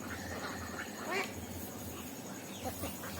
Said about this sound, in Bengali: আমাদের হাঁসগুলো জমিতে না গিয়ে এখানে বসে আছে পুকুর পাড়ে